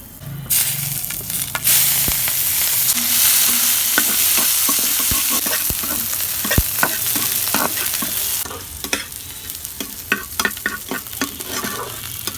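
Onion, green chili, dried chili and garlic fry with five-spice in hot oil, a loud dense sizzle punctuated by frequent sharp stirring clinks and scrapes close to the pan, with no talk.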